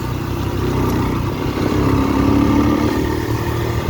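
A BigBoy TSR 250 motorcycle ridden on dirt trails, its mid-pitched engine droning loud and close throughout, rising slightly as it pulls along.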